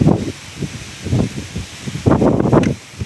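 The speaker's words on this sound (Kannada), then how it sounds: "ಗಾಳಿ ಫುಲ್ ಐತೆ ನೋಡ್ರಿ." Strong gusts of wind buffet the microphone in rumbling bursts, rising and falling several times.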